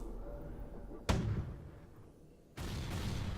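Weapons fire from a spaceship in the video game FTL Advanced Edition: one sharp, loud impact bursts out, then fades. A second strong blast of noise starts about a second and a half later and keeps going to the end.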